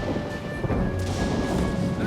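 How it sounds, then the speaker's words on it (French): Rumbling cartoon thunderstorm as a big storm gathers over a pirate ship at sea: low, heavy thunder rolls and a crash-like swell, with a faint tonal hum running underneath and no voices. "Il y a une grosse tempête qui se prépare."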